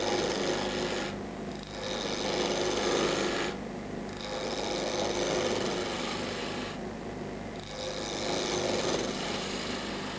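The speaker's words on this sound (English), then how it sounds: "We roll the gouge into the wood, well away from the corner." A spindle gouge rolls into spinning wood on a lathe while roughing out a spindle, giving a steady broadband rasping hiss in repeated passes with short dips between cuts, close and continuous.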